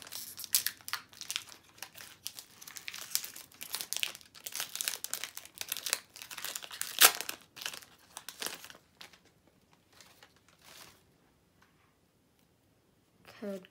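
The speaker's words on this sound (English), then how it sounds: "Let's open our second Obsidian Flames pack." Pokémon Obsidian Flames booster pack wrapper torn open and crinkled close up in dense bursts of crackling foil, fading to a few sparse rustles and then near silence.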